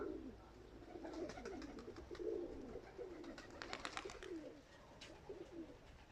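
Pigeons coo in a low, throaty murmur outdoors, with several overlapping calls repeating steadily at moderate distance and light background ambience.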